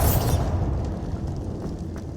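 A spell blast going off in Hogwarts Legacy: a loud, close, booming burst at the start that quickly decays into a rumbling, noisy tail with faint crackles, no talk.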